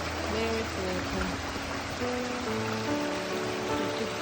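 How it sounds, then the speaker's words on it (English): A small waterfall in Irish countryside by a farmhouse rushes as a steady, close broadband wash of falling water. Faint tonal sounds and possible voices run underneath. "Beautiful magical fairy waterfall."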